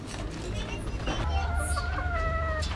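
Chickens cluck and chirp softly in a backyard coop among chicks, a few short bird calls rising over a steady low rumble of background noise, with a voice briefly audible.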